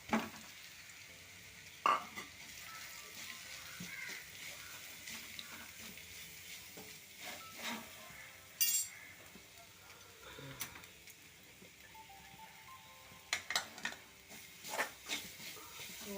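Ground masala paste with chilli and fenugreek powder being stirred into onions in a pan for sardine thoran, heard as a soft low sizzle with intermittent spoon scrapes and taps, fairly quiet.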